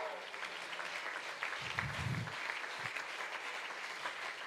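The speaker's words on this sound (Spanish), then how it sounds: "déle ese aplauso al Rey de la Gloria" A church congregation claps for God during a Spanish-language sermon, a soft, diffuse spread of many hands at some distance, with a deep voice calling out briefly partway through.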